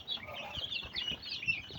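Hens cluck and chatter in a backyard chicken coop, a quiet continuous stream of soft calls heard from nearby with no one speaking.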